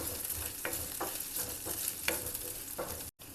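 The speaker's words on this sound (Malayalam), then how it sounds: "ഇഞ്ചി വെളുത്തുള്ളി നമ്മളിങ്ങനെ ഇളക്കിക്കൊണ്ട് നിൽക്കണം, അല്ലെങ്കിൽ അത് അടിക്ക് പിടിക്കാൻ ചാൻസ് ഉണ്ട്" Ginger and garlic sizzle and fry in a pan while being stirred, with several distinct scraping strokes over a steady hiss; no one talks.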